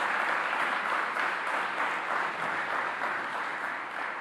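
A crowd applauds at a ceremony in a newly restored national palace, with steady, dense clapping from many hands heard at a moderate distance.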